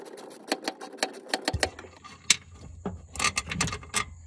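A small ratchet fitted with a half-inch breaker bar clicks in a quick, evenly spaced run of sharp close ticks, while working on a seat belt replacement on a New Holland L160 skid loader. A low hum enters midway, followed by a few more scattered clicks.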